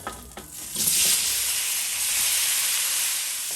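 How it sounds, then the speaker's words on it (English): Mango pieces sizzle in piping hot oil and masala in a pan, a steady, loud frying hiss after a brief stirring clatter at the start. "So you're going to allow your mango to fry for about 2 minutes in the masala."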